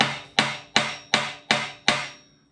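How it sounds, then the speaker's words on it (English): A hammer taps a 14 bolt axle part loose during a regear and locker install, six evenly spaced sharp metallic strikes, each ringing briefly before the next, close and loud. "at this point, we can go ahead and hammer this off"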